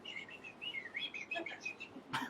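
A person imitates bird chirps with the voice: quick, faint, high-pitched tweets in an irregular run, followed by a brief sharper burst at the end.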